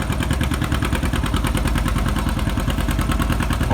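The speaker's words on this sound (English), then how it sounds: "Oh, he's just a-popping right along." A farm stock tractor in a 6000 lb tractor pull running around 1,200 RPM: a loud, rapid, even engine popping and clatter close by, held steadily throughout with no talk.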